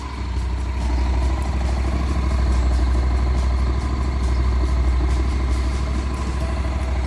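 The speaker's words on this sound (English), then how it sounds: "this particular bike has a standard everything, so it's not the best sounding exhaust." A 2013 Honda NC700 DCT motorcycle with its standard stock exhaust running at idle, a steady, deep, loud engine drone with an even low throb that holds unchanged throughout, alone without speech.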